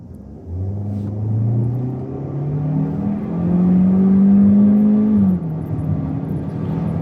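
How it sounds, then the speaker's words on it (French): Citroën C5X petrol turbo engine accelerating hard through an eight-speed automatic, heard from inside the car as a loud rising drone that climbs through gears, peaks, then drops off sharply. "On entend un petit peu plus le turbo, on entend un petit peu plus que la voiture hurle."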